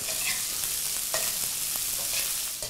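Half a cup of chopped onion sautés in a pan with ginger, crackling in a continuous sizzle as a utensil scrapes and stirs now and then, close and alone.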